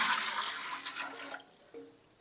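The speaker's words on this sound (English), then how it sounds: "The water that I was soaking them in, I'm just going to dump it back in here" Water that had soaked bare-root calla lilies and other plants is poured back into a container, a short close splashing pour that tails off into a few faint drips.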